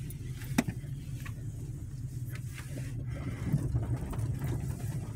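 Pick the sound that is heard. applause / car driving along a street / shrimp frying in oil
car driving along a street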